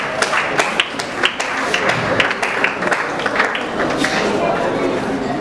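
A gathered crowd at a family memorial gift-giving claps in scattered, uneven bursts, moderately loud, with chatter and murmuring voices mixed throughout.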